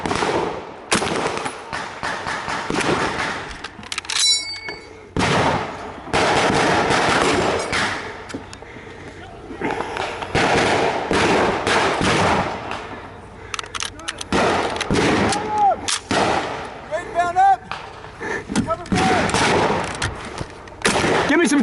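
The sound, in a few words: covering gunfire during D-Day battle reenactment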